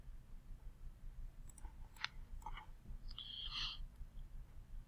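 Several sharp mouse clicks, spaced irregularly, while parts are assembled in CAD software; close and fairly faint over a low background hum, with no talk.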